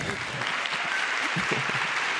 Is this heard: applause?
yes